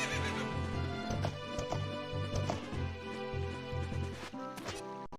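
A horse neighing in the video game Zelda: Ocarina of Time, a loud whinny over a rhythmic galloping clip-clop and music, close and continuous, with a few sharp hits near the end.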